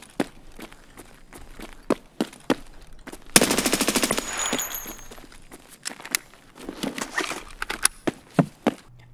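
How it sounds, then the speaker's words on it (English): Automatic gunfire in Escape From Tarkov: a sustained burst of rapid shots mid-clip, amid scattered sharp footsteps and gear clatter before and after, with a second looser run of shots near the end. "we turn around and we shoot him right in the face"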